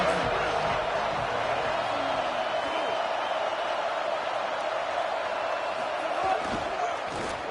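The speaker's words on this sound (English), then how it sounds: "how nice is it to have the home crowd going absolutely bananas?" Home crowd at an Ole Miss versus Mizzou college football game roars loudly and steadily throughout, a dense sustained wall of cheering with no letup.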